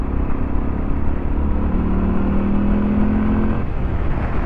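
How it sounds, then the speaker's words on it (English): A Moto Guzzi V7 Stone motorcycle engine accelerates, a loud, continuous close-up drone with a rising tone that drops off near the end, heard alone without talk. "The engine pulls pretty darn well."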